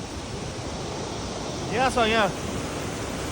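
A cold waterfall in Mustang, Nepal rushes in a steady, full roar. A voice speaks briefly over it partway through.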